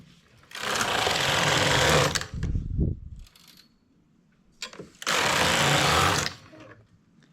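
A flatbed knitting machine knitting a V-neck trim: two loud, close bursts of rapid mechanical carriage whirring, each lasting about one and a half seconds, separated by a quieter pause with light clicks.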